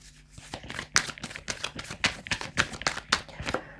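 Tarot cards being shuffled by hand during a reading, a rapid series of crisp riffling and slapping bursts in an irregular rhythm, close and fairly quiet with no voice over them.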